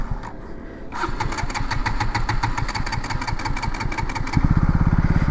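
A KTM Duke 200 motorcycle engine cranks and catches, settling into a rapid, loud, close idle with a rhythmic pulsing beat that deepens and strengthens near the end.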